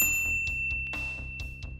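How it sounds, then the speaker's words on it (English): A notification bell dings a few times in quick succession at moderate loudness, a bright chime that comes up as part of a subscribe reminder. "ring the bell to be notified about our latest videos"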